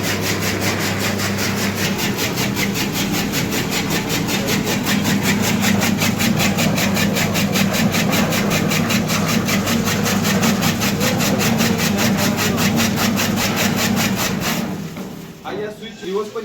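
An electric chaff cutter machine chopping fodder, a loud rapid rhythmic chopping over a steady motor hum, running continuously before slowing at the end with a voice briefly heard.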